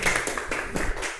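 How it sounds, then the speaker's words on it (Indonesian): A classroom claps for a student, a short burst of many hands slapping together at close range, steady and dense for about a second. "Tepuk tangan semuanya buat Jamila."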